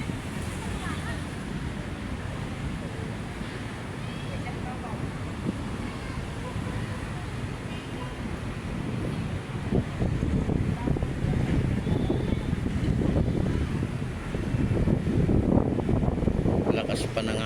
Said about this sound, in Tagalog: Lakas pa ng hangin, guys.